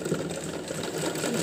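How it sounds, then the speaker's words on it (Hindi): A sewing machine stitches the side seams of a smocking frock, running in a continuous fast close whir with an even mechanical buzz and no voices. "इस पर हम सिलाई कर देंगे एक बार, यहाँ से पूरा यहाँ तक पूरी ये सिलाई"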